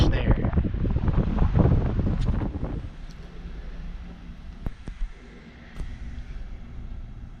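Wind gusting outdoors at Bonneville Dam, a strong roaring rush over the microphone for the first three seconds, then easing to a lighter steady breeze with a few faint clicks.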